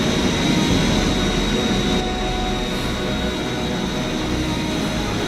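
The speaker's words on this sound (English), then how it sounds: "Port engine slowing, shutting down." Steady loud roar of an aircraft's port jet engine with a low rumble, holding fairly constant and easing slightly over several seconds as it slows and shuts down.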